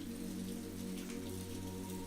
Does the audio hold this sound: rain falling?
yes